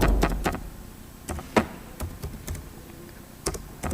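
Computer keys clack in irregular bursts and single taps as a QBASIC program is typed, close and fairly quiet over a low background hum.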